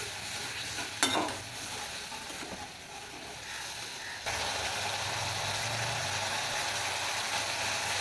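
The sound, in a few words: masala frying and being stirred in pan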